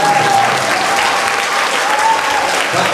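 Crowd applause for a podium mascot at an event, a dense, even burst of clapping close by that carries on without a break throughout.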